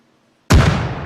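A training grenade lobbed over a wall detonates in one sudden loud blast after a near-silent pause, its boom rolling and fading over the following moments.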